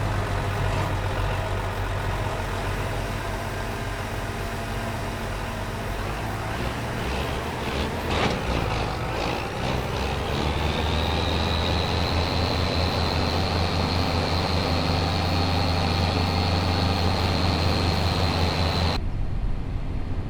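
A Ford tractor idles in Farming Simulator 25, a steady low diesel rumble heard from outside at constant loudness, joined midway by a rising whine and a faint metallic clank, without talk.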